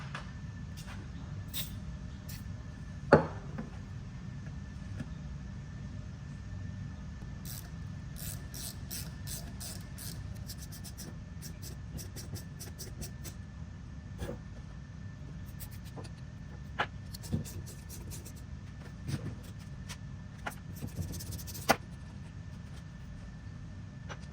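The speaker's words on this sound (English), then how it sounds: "We're gonna tap in some new threads." A tap cutting new 5/16 coarse threads into the aluminum deck of a Cub Cadet zero-turn mower, faint ratcheting clicks in scattered bursts over a low hum, with a few sharper knocks.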